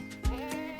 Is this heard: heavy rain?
no